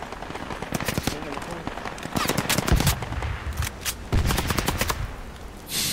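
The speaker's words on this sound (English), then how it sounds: "They're shooting at the ammo bag." Rapid bursts of automatic gunfire in a video game, aimed at a dropped ammo bag, with dense overlapping shots and a few heavier impacts. The firing carries on without pause for the whole stretch.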